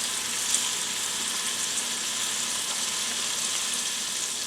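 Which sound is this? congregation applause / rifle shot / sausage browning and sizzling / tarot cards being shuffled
sausage browning and sizzling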